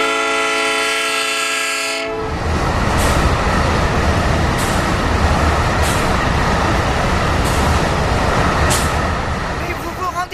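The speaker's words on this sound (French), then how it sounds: "Ici, depuis 2 ans, il y a des trains qui passent." A train horn blares for two seconds, then a train rumbles past loudly with rhythmic clatter of wheels over rail joints.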